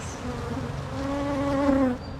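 Close, steady buzzing of honey bees, a droning hum that swells slightly before easing off, with no voices.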